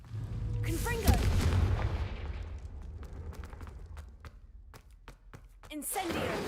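Booming fiery blasts from the Confringo explosive spell in Hogwarts Legacy, a heavy rumbling burst early on followed by sharp crackling impacts, with someone talking over much of it.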